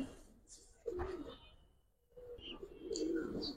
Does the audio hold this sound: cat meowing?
no